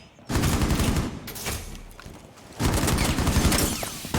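Rapid automatic gunfire in a first-person shooter match replay crackles in two long sustained bursts, split by a short quieter gap, loud and close.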